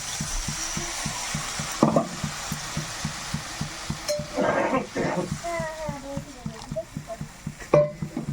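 Water hits frying poppy seed paste in a pan of hilsa curry, giving a busy sizzle with rhythmic stirring scrapes, while a voice talks over it.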